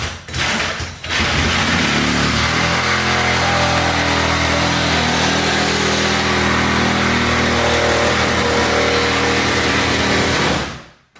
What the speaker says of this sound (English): so we'll use the Sawzall and we'll come across the bottom here.